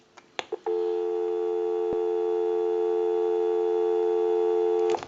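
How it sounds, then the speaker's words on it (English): After a few brief clicks, a steady, loud dial tone from a converted Western Electric 2554 telephone sounds continuously for about four seconds, then cuts off. "Go ahead and give you some dial tone."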